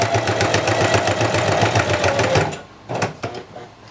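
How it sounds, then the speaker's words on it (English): A sewing machine stitches over the corner of a fabric vest-kit piece with a steady, fast mechanical whirr for about two and a half seconds. It then stops, leaving a few faint clicks and handling noises. "I'm going to sew up over the corner."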